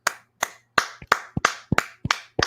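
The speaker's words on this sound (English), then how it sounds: "we are applauding you." Two show hosts clap their hands in a studio, about ten sharp, close claps in a loose uneven rhythm with no talking.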